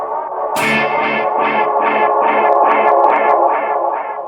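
A guitar strum fed through a NUX NDD-7 tape echo pedal with repeats maxed out, echoes pulsing steadily about twice a second and piling into a dense, sustained wash.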